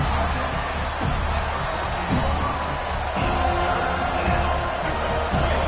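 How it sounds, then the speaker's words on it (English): A large football stadium crowd roars steadily during a red zone defensive stand, a dense, continuous wall of cheering and noise from many voices, with rising swells throughout. "And here comes the noise. This crowd is trying to inspire this defense to make a big red zone stop."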